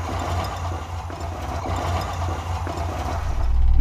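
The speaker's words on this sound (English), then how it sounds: "It's running really rough. It hasn't been running for like a week" A rough-running engine after a week unused, a low uneven idle rumble with a steady throb that swells louder toward the end.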